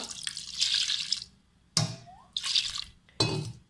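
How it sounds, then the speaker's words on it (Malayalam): Water splashes into a pot with burnt-on food stuck to the bottom in several short pours separated by pauses, each a bright watery gush. "കുറച്ച് വെള്ളം ഒഴിച്ച് വെക്കുക"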